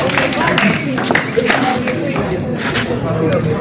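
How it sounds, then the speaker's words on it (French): Audience applauding children's mime performances at a 2025 Bible camp, steady crowd clapping with babble and voices mixed in, sustained across the stretch. "Applaudissez pour eux."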